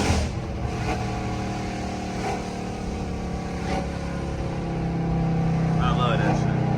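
A Dodge Charger AWD engine, a rebuilt 2024 car, revs hard through downshifts with a loud sustained drone that rises toward the end.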